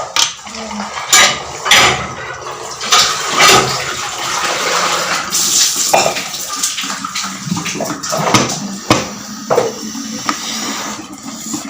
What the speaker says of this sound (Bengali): বোতলগুলোর মধ্যে জল ভরি আমি